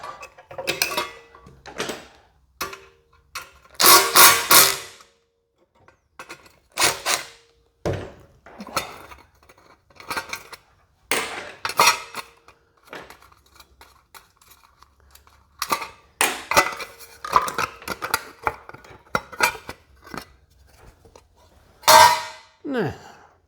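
Metal clanks and rattles while the oil pan comes off a locked-up 212cc Honda clone engine, with scattered sharp bursts of tool and part clatter separated by quiet pauses, close by.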